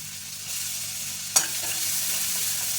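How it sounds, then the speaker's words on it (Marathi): Onion frying in butter with cumin, a steady close hiss of sizzling with one sharp scrape of a stirring spoon against the pan midway. "आता कांदा टाका आणि कांदा गोल्डन ब्राऊन होऊ द्या."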